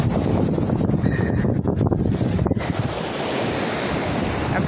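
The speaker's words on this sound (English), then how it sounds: "I like the waves rushing in like this." Ocean waves rush onto a quiet beach at Ocean Cay in a loud, continuous wash of surf, with gusts of wind buffeting the microphone.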